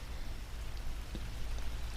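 Steady, soft rain patters on outdoor surfaces, a dreary spring shower heard as a low, even hiss with scattered faint drops and no voices.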